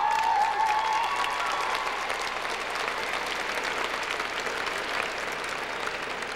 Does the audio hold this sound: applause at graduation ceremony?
yes